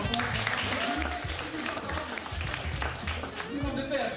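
Audience applause at a stand-up comedy show in Hauts-de-France, dense crowd clapping that holds steady throughout with voices mixed in.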